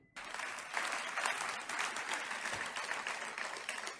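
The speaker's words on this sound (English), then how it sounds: "There's some tepid applause." Tepid applause from an audience at a political policy event in Washington DC, a steady wash of clapping that starts abruptly and carries on evenly throughout, with no voices over it.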